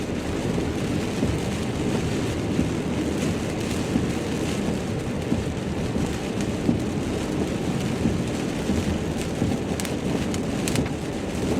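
Thunderstorm rain bands from a mesocyclone near Portage, Michigan, in 2024 bring constant heavy rain with rumbling thunder underneath and occasional sharper crackles, with no voices.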